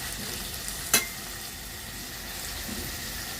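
Spice paste for a crab curry sizzling as it is sautéed in a pan, a soft steady frying hiss with one sharp stirring clatter near the start.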